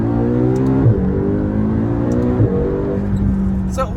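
A 2025 McLaren GTS engine revs hard and accelerates, its tone climbing steadily with two brief shift breaks, loud and close throughout, with no one talking over it.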